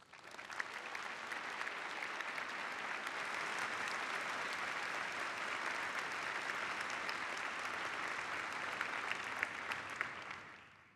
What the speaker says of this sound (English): join me in a round of applause for those who have supported